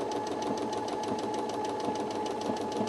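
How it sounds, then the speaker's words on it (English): A Brother sewing machine stitches a buttonhole with a binding buttonhole foot, giving a steady, fast mechanical whirr with rapid needle ticking that runs continuously at even loudness, up close. "that's going to start sewing my buttonhole."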